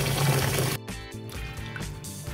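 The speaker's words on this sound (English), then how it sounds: "We add cold water to wash it" Cold water splashes and sloshes around bitter melon leaves being washed by hand, close and fairly loud at first, then quieter gurgling and swishing, with no talk.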